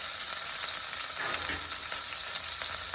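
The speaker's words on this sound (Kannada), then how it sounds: "ಈ ಎಣ್ಣೆ ಕಾದ್ಮೇಲೆ ಸ್ವಲ್ಪ ಸಾಸಿವೆ, ಜೀರಿಗೆ, ನಿಮ್ಮ ಖಾರಕ್ಕೆ ತಕ್ಕಂಗೆ ನೋಡ್ಕೊಂಡು ಹಾಕೊಳ್ಳಿ." Mustard seeds and cumin fry in hot oil in a pan for spicy street-style girmit, a continuous close crackle and sizzle with small pops scattered throughout.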